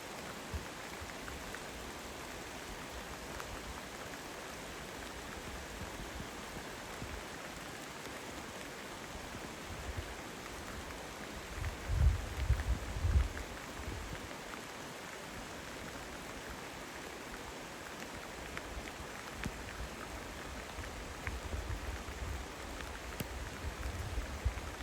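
Rain falls outdoors among snags and gullies, a steady, dense hiss of drops on surfaces that holds for the whole stretch, with a few heavier bursts of pattering partway through.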